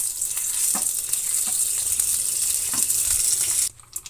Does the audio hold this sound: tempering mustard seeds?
yes